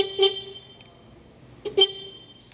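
Two short Kawasaki motorcycle horn beeps on a weak battery, a second apart with a pause between, fairly close and alone over quiet background.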